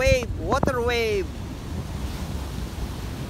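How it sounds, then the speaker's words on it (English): Ocean surf on the beach at Agoo, La Union, Philippines, rushes and washes steadily with wind buffeting the microphone, while a voice speaks briefly over the start. "You see the water wave?"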